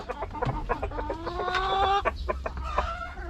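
Chickens cluck and squawk close by, with short repeated calls and a few drawn-out cries overlapping in quick succession.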